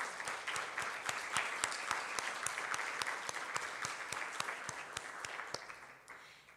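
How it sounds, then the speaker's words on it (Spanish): A church congregation applauds the Lord during a sermon, a crowd of hands clapping in a fairly regular rhythm, with sharp individual claps audible throughout before fading out at the end. "Dale un aplauso al Señor"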